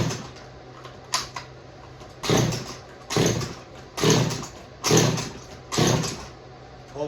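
A small gas engine on a homemade bottle opener sputters in a series of about six short, loud bursts roughly a second apart, each with a rough mechanical roar that quickly dies back to quiet.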